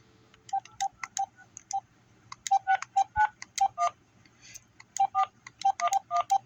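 Phone keypad tones dialing a call to a police dispatcher, a series of short beeps in irregular clusters with pauses between groups, fairly quiet and close, with no talking.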